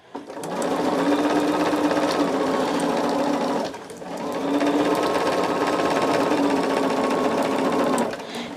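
A quilting machine stitches a jelly roll Irish chain quilt in two long steady runs, a loud close motor hum broken by a brief pause midway.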